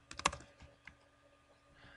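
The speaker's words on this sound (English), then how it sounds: "I can change the amplitude by typing in the numbers" Numbers are typed on a computer keyboard into an Excel 2007 spreadsheet: a quick cluster of close, crisp key clicks, then a few sparse taps trailing off.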